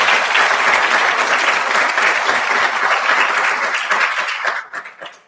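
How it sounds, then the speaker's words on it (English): Dense, sustained applause from a large audience honoring panel speakers at an HIV/AIDS forum, loud and even for several seconds before tapering off at the end. "I want you to give them all a round of applause before we start."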